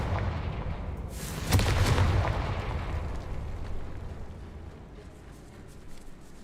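A Confringo fire spell goes off in Hogwarts Legacy with a loud fiery blast. It swells into a rumbling, crackling roar, then slowly fades into a low ambient rumble.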